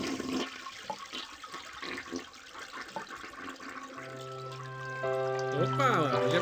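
Water trickling and splashing in the horror game Harvester, a steady wet pour that runs under background game sounds and ends in rising tonal chimes.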